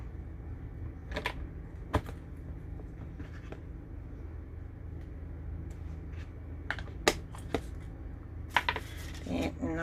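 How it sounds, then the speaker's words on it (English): Rubber stamp pressed onto paper during card making inside a caravan, a few soft dull taps and thumps, close by and fairly quiet over a low steady hum. "now I just want to stamp his little bowl"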